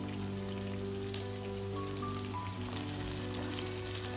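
Steady soft sizzling of pirandai stems and curry leaves sautéing in a pan, a continuous close hiss of frying with no talking.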